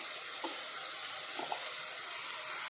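Shredded cabbage tipped into a hot frying pan of onion and tomato for a cabbage curry, giving a steady broadband sizzle throughout with a few soft scrapes, and no talking.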